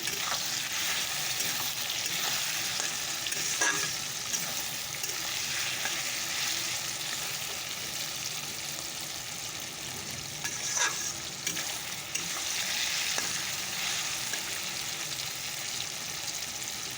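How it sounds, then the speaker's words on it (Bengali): Potatoes fry in a pan with a steady, close sizzle lasting throughout, broken by a couple of sharp scrapes and clicks as they are stirred; no one speaks. "আলুটাকে ছেড়ে দিতে আলুগুলোকে ছেড়ে দিলাম"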